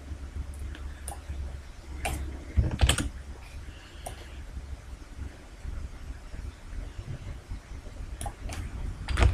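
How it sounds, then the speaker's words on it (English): Arrow keys on a computer keyboard are tapped, giving several faint, close clicks at irregular intervals over a steady low hum. "So I'm going to use my arrow keys just to get it over and in the right place."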